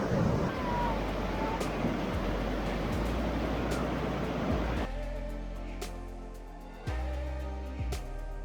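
Small cascading waterfalls tumbling into little pools at Jumna Dam give a steady, broadband rushing wash, loud and close throughout, with the texture shifting and thinning partway through.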